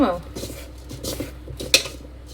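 Spoon clinking and scraping against a bowl while ragi and aval powder are mixed together, several light metallic taps and scrapes, close by, with one sharper clink near the end and a voice speaking in the background.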